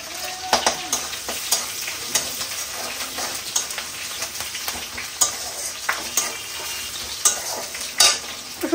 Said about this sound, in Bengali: কলাটা দিয়েও আমি ভালো করে ভেজে নেব।